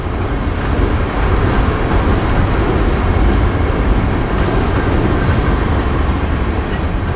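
A train rolls slowly, around ten miles an hour, along a quiet coastal railroad in Florida, giving a loud, steady, unbroken rumble with no voices.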